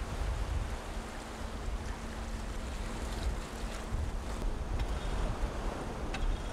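A motorboat races across the sea off the Jeongdongjin coast in Gangneung, a steady low engine hum buried under heavy wind buffeting and rushing water spray.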